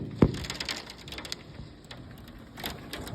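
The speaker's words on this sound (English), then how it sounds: "It's raining freaking ice." Hail and ice pellets fall during a storm, a dense patter of small hard impacts ticking and clattering on surfaces nearby, with one sharp knock near the start and clusters of louder hits later.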